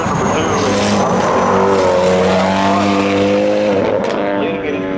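Cars launching in a spectator drag race at Seekonk Speedway, loud engines revving and climbing in pitch with tire squeal, easing off near the end, with a commentator's voice faint underneath.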